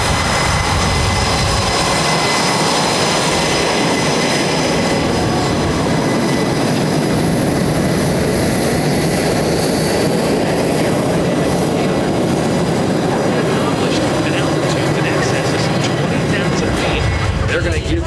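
An F/A-18 Super Hornet of the Rhino Demo Team flying a display at the Nellis Air Force Base air show, a loud, continuous jet roar that fills the whole stretch without a break.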